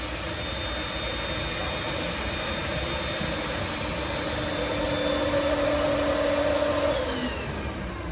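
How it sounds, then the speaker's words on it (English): A robotic sampler on a farm sucks a sample out of a loaded wagon during maize harvest, giving a steady, loud mechanical suction drone that holds unbroken throughout. "Goes down, sucks a sample out of the wagon, and spits it into the lab, and he analyses it."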